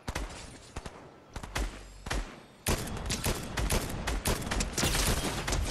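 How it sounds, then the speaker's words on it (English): Gunfire cracks in a Fortnite match, with scattered sharp shots at first, then a loud, dense burst of rapid fire that continues to the end, close and intense. "Somebody else shot at me."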